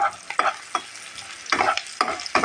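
Spices frying in oil with chopped onion for a quail egg and potato curry, close sizzling broken by several bursts of spatula stirring and scraping in the pan.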